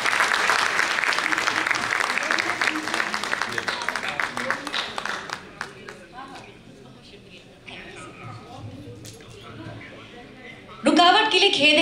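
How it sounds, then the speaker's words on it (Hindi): Audience applause at a Hindi poetry recital, dense clapping from a large crowd that builds loudly then thins and fades over several seconds before a voice speaks at the end. "एक बार जोरदार ताली बजाएं सभी"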